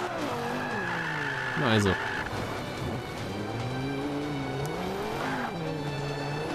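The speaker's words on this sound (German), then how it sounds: "mit dem Gallardo kann ich einfach am besten fahren bzw. driften" A Lamborghini Gallardo drifts in Forza Motorsport 5, its engine note rising and falling with revs while tires screech through slides. Someone talks over the driving.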